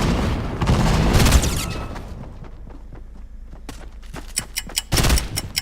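Gunfire in the mobile game Fortnite on iOS: loud bursts of rapid shots open the clip, followed by scattered sharp clicks and thuds. Another heavy burst of shooting comes near the end.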